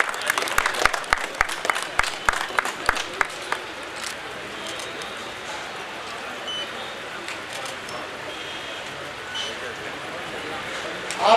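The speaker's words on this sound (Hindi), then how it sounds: "मेरा विनम्र निवेदन है कि तालियों की गड़गड़ाहट में कृपया कमी न रखें।" Audience applause at an expo award ceremony (Buildcon Pro Expo), with sharp claps early giving way to a steady wash of clapping from a large crowd, fairly loud and sustained.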